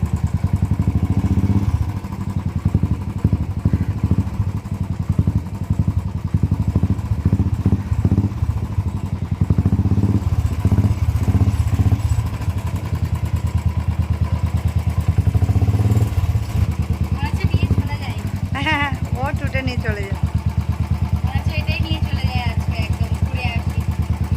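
Royal Enfield Bullet motorcycle running steadily with a continuous loud engine throb and clatter, people talking over it throughout.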